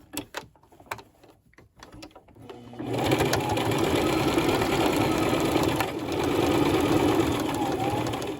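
Sewing machine stitching across the bottom of a fabric face mask: a few scattered clicks and taps first, then a sustained loud mechanical whir of steady stitching with a brief dip midway, no talking.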